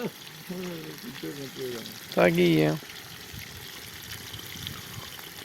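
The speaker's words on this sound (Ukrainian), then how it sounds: "як воно собі шквариться класно. На ходу все кипить." Soft, steady crackle of potatoes sizzling in a cauldron, low and continuous beneath a few short spoken remarks.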